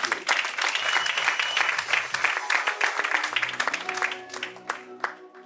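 A church audience applauds warmly after a sermon, dense clapping filling most of the stretch before thinning into scattered claps near the end, with some voices mixed in.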